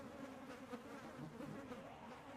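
Flies buzzing steadily in Project Zomboid, a continuous droning hum heard alone at low level without speech.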